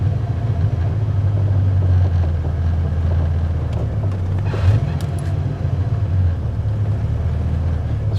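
A Ford 5.0 engine idling with a steady low rumble while the clutch is eased out in first gear with the park brake on, close and continuous with a slight dip in the middle.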